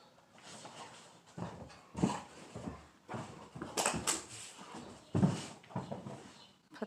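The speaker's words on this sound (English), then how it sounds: "My dog's going crazy." A dog whimpers and pants excitedly in short bursts, with high-pitched whines and breathy pants repeating unevenly, fairly close and moderately loud.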